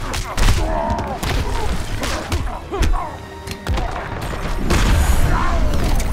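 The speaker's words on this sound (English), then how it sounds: "Use the undead grenades located around the Batcave to do significant damage." Undead grenades exploding in the Batcave in Injustice: Gods Among Us, several booming thuds and crashes scattered through a busy game mix with voices talking over them.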